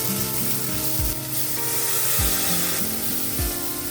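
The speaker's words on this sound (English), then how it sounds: "what we're going to deglaze it with is a little tiny bit of orange juice" Roasted currywurst sizzles steadily in a hot pan as a small splash of orange juice deglazes it, with a continuous close frying hiss and a few low thuds from stirring or scraping.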